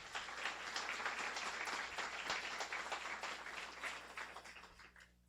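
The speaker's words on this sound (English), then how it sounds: "Another round of applause, please." Applause from an audience at a guide-dog school graduation ceremony, a steady wash of many hands clapping at moderate distance that thins and fades out toward the end.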